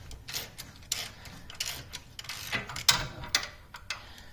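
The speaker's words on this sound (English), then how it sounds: "for these bolts here, 15 millimeter, and just loosen up." Ratcheting wrench loosening 15 mm bolts on a Jeep Grand Cherokee ZJ steering stabilizer, heard as a series of quick close clicks and metallic ticks in irregular bursts, with no talking.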